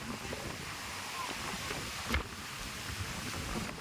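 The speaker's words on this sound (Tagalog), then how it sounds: "Mahangin ngayon." Steady wind buffets the microphone outdoors on the coast at El Nido, Palawan, a broad rushing roar with occasional gusts and faint water and boat sounds in the background.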